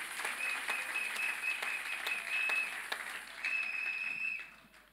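A church congregation applauds in a steady stream of claps, with a few louder single claps standing out, over a thin high-pitched tone. The clapping is moderately loud, then fades toward the end.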